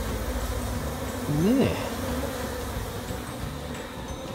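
A late-season honeybee swarm buzzing steadily throughout, with a brief louder swell near the middle and a short spoken word.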